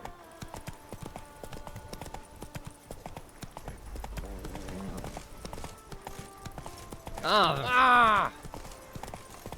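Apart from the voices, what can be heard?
horse Roach galloping, clip-clop, in Witcher 3 Blood & Wine video game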